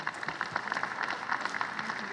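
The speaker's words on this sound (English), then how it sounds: "Round of applause." Applause from a conference audience at a general session, a brief, moderately quiet ripple of clapping from a crowd in a large hall, even and unbroken.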